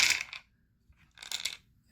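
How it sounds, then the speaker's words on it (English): Two short bursts of dice clattering, six dice rolled for a World War II strategy board game, rattling sharply on a hard surface with a pause between. "I'm going to roll 6 dice"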